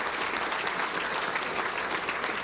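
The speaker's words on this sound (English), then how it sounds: "let's give him a round of applause for remembering Paul Lills" A large banquet crowd applauds steadily and densely at a touchdown club luncheon, a continuous wash of many hands clapping with no break.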